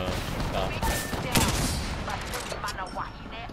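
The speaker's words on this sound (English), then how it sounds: "They're shooting at me." Game gunfire from Apex Legends, a dense crackle of shots and bursts running through the whole stretch, fairly close and loud with a louder flurry near the middle, set amid busy in-game combat noise.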